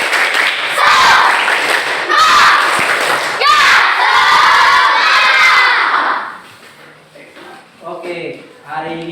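A classroom of children doing a 'tepuk semangat' spirit clap, loud rhythmic group claps mixed with excited shouting and chanting that cut off abruptly, followed by quieter voices talking.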